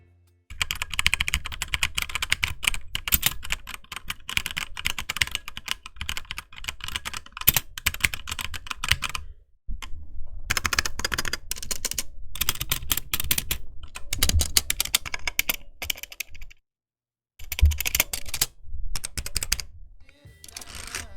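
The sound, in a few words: typing on mechanical keyboard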